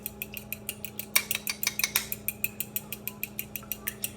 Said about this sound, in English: Whisk until fully mixed together.